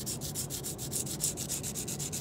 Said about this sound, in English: It's a light sanding. It's not like I'm pressing real hard.